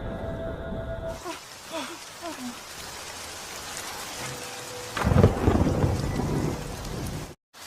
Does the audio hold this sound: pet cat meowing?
no